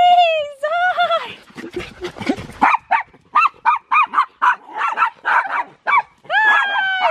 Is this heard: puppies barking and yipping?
yes